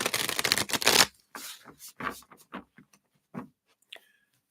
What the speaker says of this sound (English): We're going to shuffle up the tarot here.